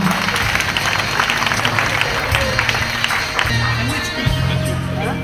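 A crowd at a school graduation ceremony in Gabon applauds, steady clapping and crowd noise running throughout with some voices mixed in and a low droning tone underneath.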